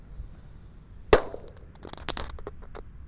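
A mini sonic boom firecracker set off inside a hole in the ground gives one sharp, loud crack, followed by scattered smaller pops and debris crackles over a quiet outdoor background.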